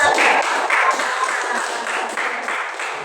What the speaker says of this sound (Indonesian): Tepuk tangan buat Mbak Aziza.